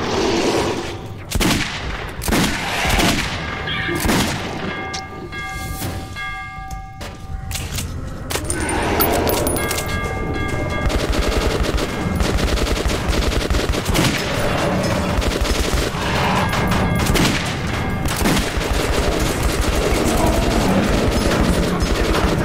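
Pistol shots ring out in Metro 2033 Redux, with sharp repeated reports in the opening seconds, followed by dense continuous game noise and clatter at high, steady loudness.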